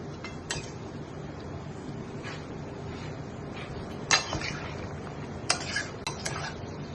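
Mutton being stir-fried in a pot over a low gas flame while cooking rogan josh, with a steady soft sizzle, scattered clinks of a spoon against the pot, and a few sharper scraping stirs.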